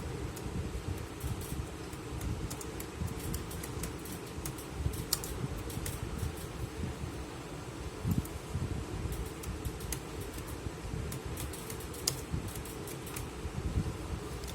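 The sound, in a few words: typing 'change screensaver' into a computer search box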